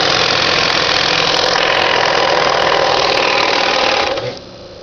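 A 1926 Singer model 31-15 industrial sewing machine on its table runs loud and close with a dense, even mechanical whir, then abruptly winds down and stops near the end.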